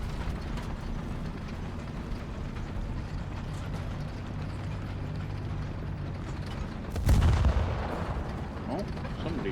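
A VK 30.02 tank in a tank video game is hit by a shot. Steady mechanical engine and track rumble runs throughout, and a loud, abrupt impact bursts out near the end, with faint talk underneath.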